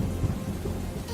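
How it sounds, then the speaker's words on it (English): Heavy rain pours down as a sound effect, a dense low roar with rumbling like thunder. It plays briefly and steadily without any voices. "Massive rains pour onto the face of the desert planet."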